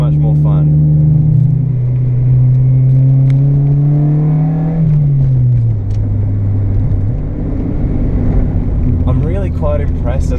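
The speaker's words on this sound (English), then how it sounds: "I am accelerating out of corners, and it's more than okay with it." A Honda Civic EK accelerates out of corners, its engine note climbing steadily, dropping off on shifts and climbing again, loud and close with a steady road rumble underneath.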